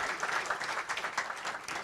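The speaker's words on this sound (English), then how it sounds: "give a round of applause" Steady applause from a conference audience in the Turks and Caicos Islands, a dense wash of clapping that holds evenly throughout, heard from a moderate distance.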